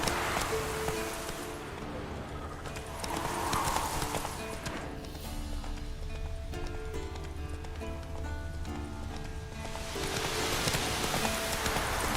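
Horse hooves clip-clop steadily through The Witcher 3, a rider on horseback with rain falling and an occasional whinny, the hoofbeats close and continuous beneath layered game ambience.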